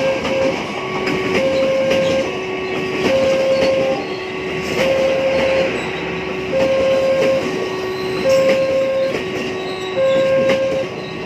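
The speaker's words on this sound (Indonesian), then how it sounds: "sebentar lagi akan masuk kereta api Tawangalun dari arah Malang akan masuk di jalur 2 stasiun Probolinggo" Tawangalun passenger train arriving at Probolinggo station from Malang on track 2, its horn sounding a long alternating two-tone pattern over rumbling wheels and clatter, loud and close throughout.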